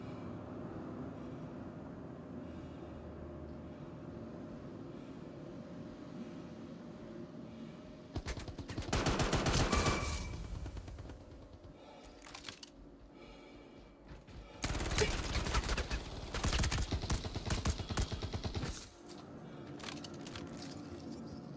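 Apex Legends weapons fire in two long loud bursts of rapid automatic gunfire separated by quieter stretches of low ambient game noise.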